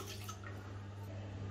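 One cup of water is poured into a kadhai (wok) while making raw mango murabba, a faint, brief trickling and dripping against a low background hum.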